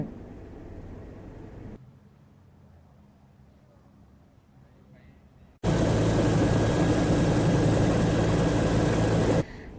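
A Border Patrol Police Region 2 helicopter flies over flooded land in Khon Kaen province near the Ubol Ratana Dam, its rotor and engine a loud, steady roar inside the cabin, following quieter passages.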